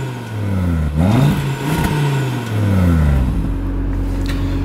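An Audi RS3 engine revs up and down in a few rising and falling sweeps, loud and close, with no talking.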